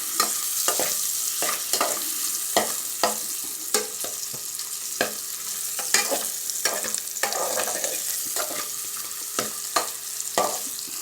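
Hot dogs sizzle steadily in a frying pan while cooking for a macaroni-and-milk dish, and a utensil scrapes and taps through the food every second or so, close and clear with no talking.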